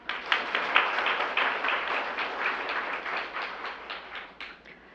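A hall audience claps to open a public healthcare debate on the Daegu–Gyeongbuk region: dense, even applause starts suddenly, holds steady for several seconds, then thins and fades out, with no talking over it.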